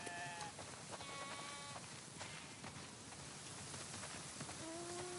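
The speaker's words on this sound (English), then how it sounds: "that's a lot of sheep." Several sheep bleat over a steady patter of rain in the video game The Last of Us Part II Remastered, the calls overlapping at moderate distance with a constant wet hiss beneath.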